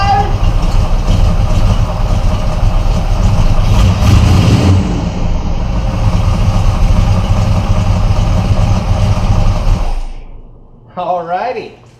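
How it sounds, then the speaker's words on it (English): A car engine idles steadily after a high-torque mini-starter swap, with a continuous broadband rumble that is loud and close for about ten seconds before it cuts off, followed by a brief whistling tone. "Well, it's been idling for about 15 minutes now."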